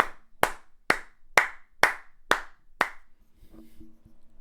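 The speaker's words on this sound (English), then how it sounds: "I'll clap." Seven sharp hand claps from a single person, evenly spaced about half a second apart and close up, followed by a brief faint tail of low room noise.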